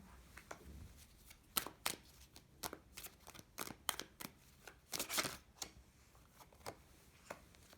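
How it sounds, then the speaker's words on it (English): Tarot cards being shuffled and pulled, a series of close, crisp riffling snaps and slaps arriving in irregular bursts, fairly quiet overall with no voices. "Let's pull some cards for the energy around you."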